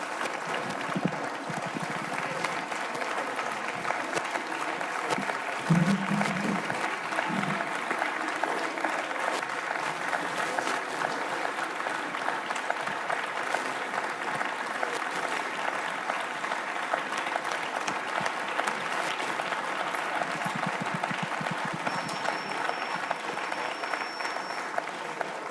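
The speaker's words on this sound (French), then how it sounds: "Vous ne m'en voudrez pas si je dis qu'il s'agit d'une standing ovation?" A large audience gives a standing ovation at a conference's closing plenary session, with dense, sustained clapping that continues evenly for a long stretch and a faint voice briefly audible beneath it.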